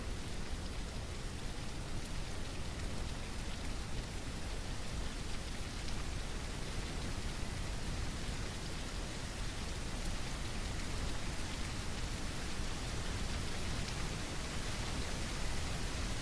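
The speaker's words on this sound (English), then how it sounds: "Here comes the rain." Steady, dense rainfall in The Isle Evrima dinosaur survival game, a continuous loud hiss of rain on surfaces that holds evenly throughout with no voices.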